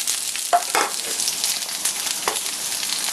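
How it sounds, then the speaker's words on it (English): Sliced onions go into hot oil in a pan, giving a steady close hiss of frying with a few brief louder spatters and stirring scrapes. "I'm going to go ahead and add my sliced onions"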